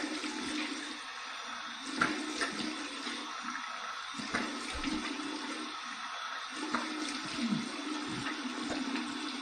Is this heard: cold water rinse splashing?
yes